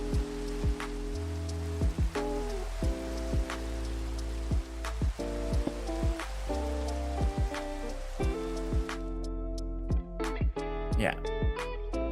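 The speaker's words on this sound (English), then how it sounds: "Okay, the rain is in the way." Steady hiss of falling rain in the Minecraft video game runs under tonal background music and a person talking, then cuts out abruptly near the end.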